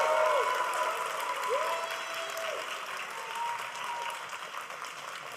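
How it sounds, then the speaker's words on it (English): Steady, dense applause from a large audience at a university graduation ceremony in Dubai, sustained throughout and gradually fading slightly, with faint tonal notes beneath. "Give a round of applause to support Maha's final address."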